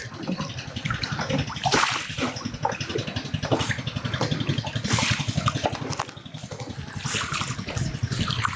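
A fishing net is hauled up out of a river, with repeated bursts of splashing and dripping water close by over a low, steady mechanical hum.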